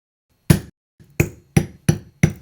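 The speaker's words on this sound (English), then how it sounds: "in this case, I'm using a whisk. Tap firmly in the middle." Five firm wooden-sounding knocks as a whisk handle taps a stamp pressed into a small bar of oatmeal soap, close and crisp, evenly spaced after a short pause, with no voice.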